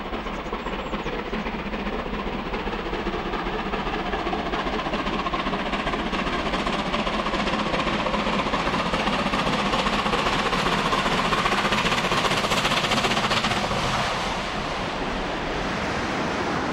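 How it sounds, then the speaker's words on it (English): A West Country class steam locomotive works hard up a bank, giving a steady, dense roar of exhaust and running noise that holds constant throughout, with no voices. "We could certainly hear the engine working hard, but sounding good."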